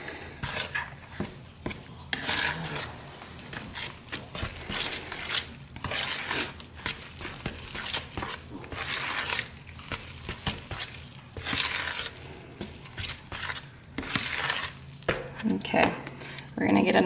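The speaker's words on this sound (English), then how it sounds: "We're gonna add the rest of our milk mixture and mix that together." Soda bread dough being stirred together with flour and a milk mixture in a bowl, irregular scraping and slapping strokes at close range, with a voice talking intermittently over the mixing.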